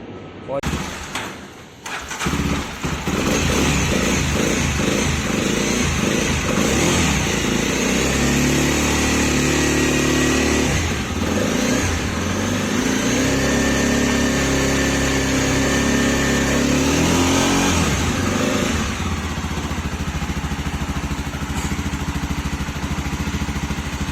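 A Mahindra Mojo motorcycle engine catches after a brief start attempt and settles into a loud, steady running note with a rhythmic mechanical pulse, heard close up for over twenty seconds.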